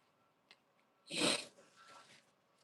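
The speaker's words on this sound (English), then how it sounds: "I keep sniffling." One sharp nasal sniffle from someone with bad allergies, close and brief, followed by softer breathing in a quiet room.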